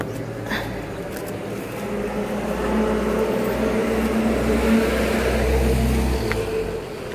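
The motor of a coin-operated self-service carwash runs as a steady mechanical hum. It swells slightly louder midway, with a few faint clicks over the drone.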